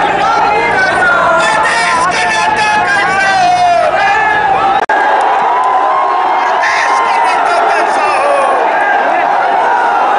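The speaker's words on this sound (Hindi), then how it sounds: "वहां पहले से ही भारी भीड़ मोदी का इंतजार कर रही थी।" A large crowd at a Narendra Modi election rally on the DS College ground in Katihar, roaring and cheering continuously with shouts and whoops, dense and loud throughout, with a brief sharp pop midway.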